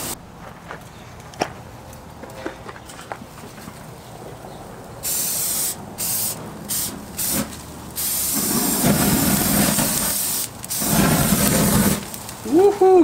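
A grill is heated to disinfect it outdoors, with loud, close bursts of spraying hiss that start and stop several times and then build into a sustained hiss, after quieter stretches of faint background sounds.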